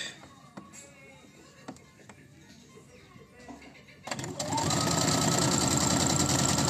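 A sewing machine starts up partway through, stitching knots at a steady, loud, continuous whir after a quieter stretch of faint handling noises.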